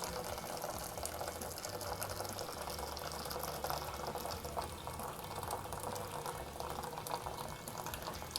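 A steady, hissing rush of water being drained from cooked hand-pounded brown rice runs the whole time, bubbling and splashing continuously at a moderate, even level.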